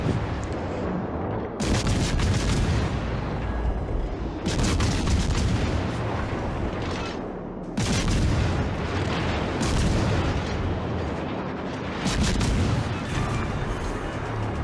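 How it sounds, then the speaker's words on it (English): Naval combat in World of Warships: Legends as shells fly and an enemy battleship is destroyed, repeated loud booming salvos and explosive crashes in heavy bursts, separated by short rumbling gaps throughout. "So here goes British acceleration to dodge her shells and get the kill in the meantime and the win."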